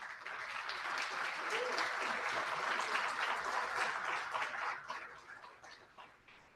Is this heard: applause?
yes